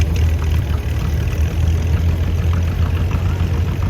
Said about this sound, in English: I got a 1938 John Deere B, owned by Pat Quigley from Simerton, Illinois.